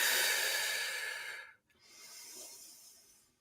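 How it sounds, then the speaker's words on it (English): A long, deep exhale through the mouth during a vocal warm-up stretch, a steady airy rush that fades, a brief pause, then a softer breath in, close and alone. "And exhale."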